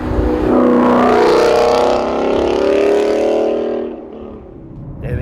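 A 2018 Mustang GT fastback V8 with a Corsa Xtreme cat-back exhaust and 4-inch black quad tips revs loudly and close, a deep sustained roar that holds for about four seconds before dropping back to a quieter idle.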